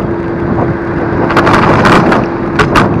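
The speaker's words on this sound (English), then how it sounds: "It's fairly close, a lorry or something very heavy, maybe a van." A heavy lorry rumbles close behind an e-scooter on a Nottingham city street, its loud, steady drone mixed with strong wind buffeting the microphone.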